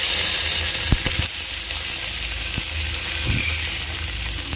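Curry leaves, cinnamon, cloves, green chilli and fennel sizzle steadily in hot oil for a potato kurma, a close, constant hiss broken by a few sharp crackles and pops.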